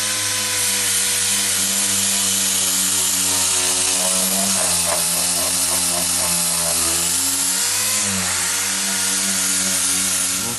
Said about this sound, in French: On va s'occuper de le poncer.